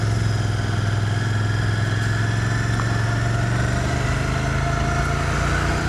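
Royal Enfield Continental GT 650 café racer's engine runs steadily at a close, loud, even drone with a faint whine on top, with no voices.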